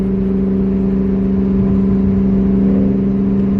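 A supercharged Chevrolet Camaro SS engine idles high at roughly 2,500 RPM, a steady, loud, close-up mechanical hum with strong low tones and a faint whine, holding an even pitch throughout with no talking.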